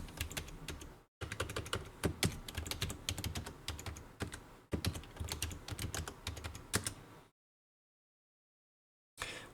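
Typing a password on a computer keyboard, rapid close clicks in quick bursts with two short pauses, then silence before a final few keystrokes.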